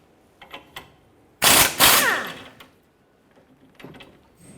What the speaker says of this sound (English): We'll go ahead and remove this nut, but leave the bolt in.